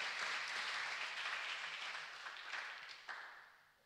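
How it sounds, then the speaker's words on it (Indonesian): A congregation applauding during a church service, a sustained wash of clapping heard from a distance, fairly quiet and gradually fading toward the end, with no talk over it. "Kita berikan tepuk tangan untuk Tuhan Yesus."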